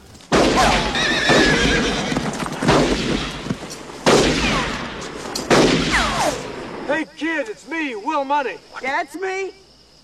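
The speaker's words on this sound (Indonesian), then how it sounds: "Will dan Ned mendengar suara tembakan." A few sharp gunshot bursts crack over steady talking, then a horse whinnies repeatedly near the end.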